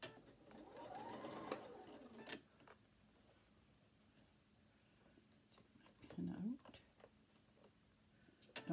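A sewing machine stitches fabric in a quiet, faint run that starts, stops and restarts, with a short louder burst near the end.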